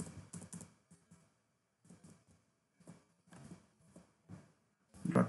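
Bursts of quiet clicky typing on a computer keyboard while writing code, coming in short clusters separated by pauses and ending in a louder flurry of keystrokes.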